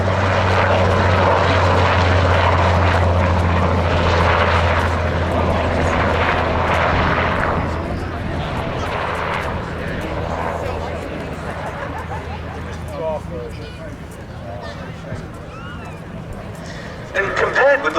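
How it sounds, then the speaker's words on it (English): A Westland Wessex helicopter powered by a single Napier Gazelle gas turbine flies past at an air display, its loud rotor and turbine roar strongest at first and then fading as it draws away, with crowd murmur faintly beneath. "For the Navy, it was the first anti-submarine helicopter that had been designed as such from the outset and with gas turbine power to boot."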